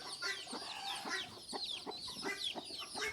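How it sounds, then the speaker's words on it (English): Country chickens and small chicks on a farm cluck and peep in quick, repeated bursts, close by and fairly clear against a quiet outdoor background. "these are the small chicks which are let out for the grazing"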